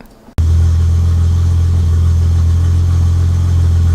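Datsun 280Z with a retrofitted EZ-EFI system cranks briefly, then catches and settles into a steady, loud, low idle that holds for several seconds, close up with no talk.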